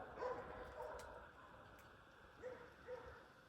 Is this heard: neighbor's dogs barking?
yes